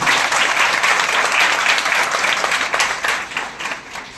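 Audience of teachers at a school event applauds loudly and steadily for the school's teachers and principals, a dense wash of clapping throughout that fades slightly near the end.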